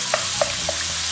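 Chicken pieces coated in yogurt and spices sizzle in a single pot for a chicken tikka biryani, with a steady hiss of frying and a few light stirring knocks spaced evenly through it.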